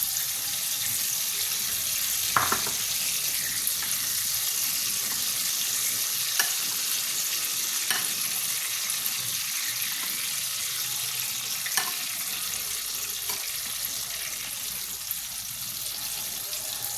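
Mirchi pakoras (chili fritters) sizzle in hot oil in a constant hiss, with a few faint clinks and pops and no talking.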